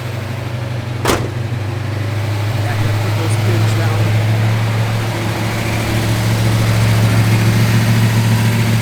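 A 1971 Ford Mustang Boss 351 V8 idles with a deep, steady rumble, a brief sharp click near the start, the low drone holding even throughout.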